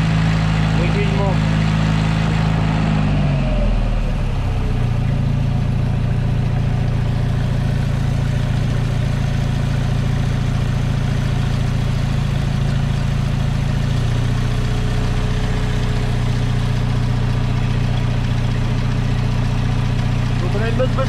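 The engine of a car under restoration idles steadily on choke, a loud constant low drone that settles to a slightly different pitch after a few seconds and runs on evenly.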